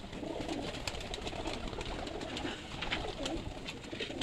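Teddy pigeons coo softly and repeatedly nearby at a pigeon club, faint low calls over quiet background noise.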